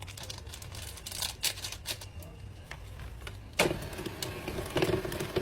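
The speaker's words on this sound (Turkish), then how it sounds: "İyice çırpıyorum tekrar. Ama yavaş devirde çırpıyorum bu sefer." Electric hand mixer whisking wet cake batter of flour, sugar and baking powder at low speed, a steady motor whir with a faint rattling beat, louder and scraping more in the second half.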